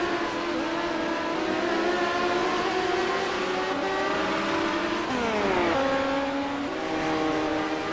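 Race cars in the iRacing video game flying into turn 3 at Williams Grove, a pack of loud overlapping engine whines holding high pitch, then dipping and rising as they brake and accelerate.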